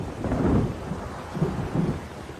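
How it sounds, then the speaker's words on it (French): Thunderstorm at sea, heard as a deep, continuous rumbling roll of thunder with a hiss of rain behind it. The rumbling swells twice, loud and close. "le navire est pris dans la tempête"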